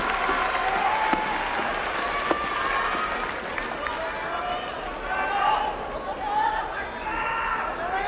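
A sumo arena crowd at a Kyushu basho cheers and claps in a steady, distant roar of applause and chatter, with an announcer speaking over it.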